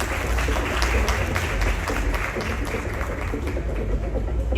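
Sustained, loud applause from an audience at an awards launch ceremony, many hands clapping steadily and evenly with a low rumble of the hall underneath, no talking.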